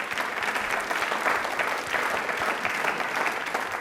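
A studio audience at a television quiz show breaks into steady, dense applause that carries on evenly for a few seconds, with no voices over it.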